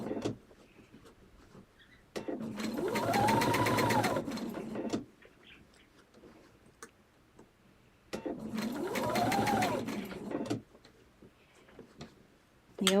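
A sewing machine stitches binding on a table runner in two separate bursts of about three seconds each, its whirring motor rising and falling between quiet pauses.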